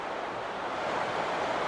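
Broad, steady roar of a stadium crowd rising as a rugby league match kicks off, Eels against Dolphins, heard as a continuous wash of noise without a clear commentator voice.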